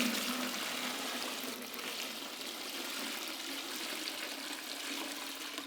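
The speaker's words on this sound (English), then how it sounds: "I'm just going to go ahead and pour water" Water poured from above into an open bag of clay sitting in a bucket, a continuous splashing, gurgling stream at close range that holds steady and tapers slightly at the end, with no talk.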